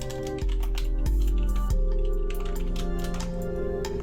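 Rapid typing on a computer keyboard, loud and close, with quick irregular key clicks running steadily over a low background drone of game music.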